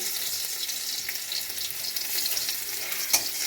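Garlic and a dried red chili fry in hot oil with a constant, close sizzle and a single faint tap near the end.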